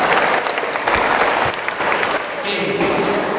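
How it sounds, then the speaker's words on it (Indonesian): Dense applause from a crowd fills the whole stretch, steady and fairly loud, with a few voices mixed in near the end. "Tepuk tangan untuk kita semua."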